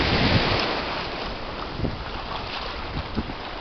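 Sea waves roll onto the shore during the rainy season, a broad, steady roar of surf heard up close and mixed with blustery wind buffeting the microphone, with no voices present.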